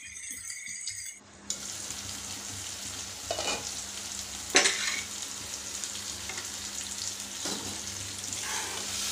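Raw prawns simmering in masala in a pan give a steady close sizzle and bubble, with a few louder stirring scrapes about a third and halfway through. No voices.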